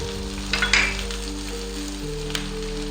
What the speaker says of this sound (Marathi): आता ह्यामध्ये कांदा टाकते आहे.